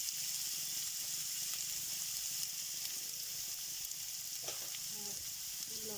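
Chopped onions sizzle in oil with cumin seeds in a pan, a soft, even hiss of frying that stays constant and fairly quiet throughout, with no voices.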